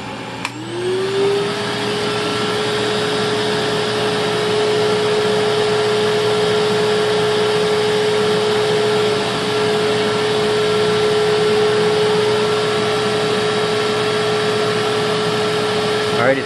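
A Panasonic Jet-Flow canister vacuum cleaner ramps up to its high setting, a loud, steady motor whine that rises in pitch at the start and then holds an even tone for the rest of the clip.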